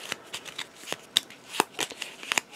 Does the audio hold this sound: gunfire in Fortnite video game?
no